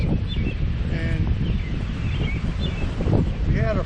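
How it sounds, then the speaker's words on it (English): Steady wind rushes and buffets the microphone outdoors in a garden on a cold, windy early-May day, with faint bird chirps and rustling in the background throughout. "It is a cold and windy day"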